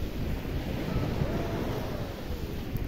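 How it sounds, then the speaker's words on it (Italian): Sea waves washing onto the shore at Chioggia, a steady broadband rushing surf mixed with wind buffeting the microphone, continuous and fairly close with no voices. "Eccoci qua con il mare alle nostre spalle, sicuramente non è il mare del Messico, il mare di Chioggia"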